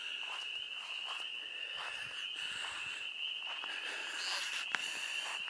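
Frogs calling at night during mating season make a steady, dense chorus of high trilling calls, continuous throughout, with faint scattered croaks and a brief louder chirp near the end.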